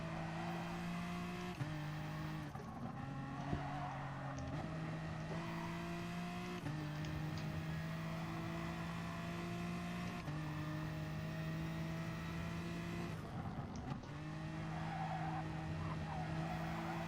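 Race car engine in Gran Turismo Sport droning steadily through a lap, with repeated rises and drops in pitch as it shifts and tires squealing in skids, loud and continuous with no talk.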